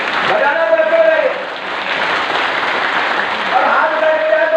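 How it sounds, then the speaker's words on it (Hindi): An audience at a live devotional gathering at Pandokhar Dham claps in a loud, continuous wash. A sustained voice or tonal sound rises over it at the start and again near the end. "ताली तो बजा दीजिए ऐसे"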